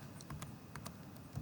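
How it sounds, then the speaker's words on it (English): Keys tapped on a computer keyboard while entering an IP address, a short run of light, irregular clicks close by and quiet, with no voices. "you want to go ahead and type the IP address of"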